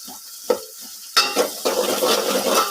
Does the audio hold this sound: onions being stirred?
yes